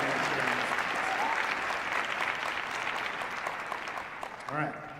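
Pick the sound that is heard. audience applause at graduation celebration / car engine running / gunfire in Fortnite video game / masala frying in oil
audience applause at graduation celebration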